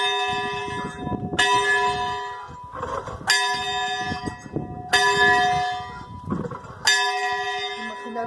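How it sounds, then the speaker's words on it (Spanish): Up at the mountain hermitage of San Juan de Nepomuceno in La Serratella, a church bell swung by hand peals five times in a rhythmic sequence. The loud, shimmering strikes ring out close by, with soft voices in the gaps. "ahora oirán en los pueblos y en la comarca estas campanas sonar"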